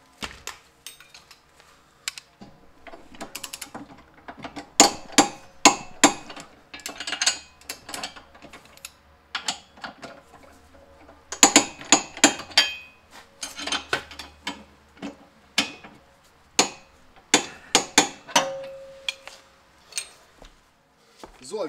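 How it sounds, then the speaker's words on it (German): Repeated ratcheting clicks as bolts are tightened with a torque wrench while fitting a trailer hitch to a Nissan X-Trail, irregular bursts of mechanical clicking and clanks, close and fairly loud, with brief speech. "Und natürlich mit Drehmoment einmal nachziehen alles."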